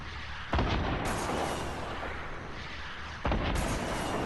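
Rockets fired outside in the video game Fortnite, heard as two heavy booming launches about three seconds apart, each a sharp blast trailing into a loud, sustained roaring rumble.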